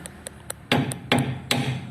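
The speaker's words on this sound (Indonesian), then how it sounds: "Jadi harus Anda pukul pakai palu" A hammer strikes the steel leaf spring of a Toyota Kijang suspension to knock it loose, first with three light taps and then with four heavier metallic blows in a quick, uneven rhythm.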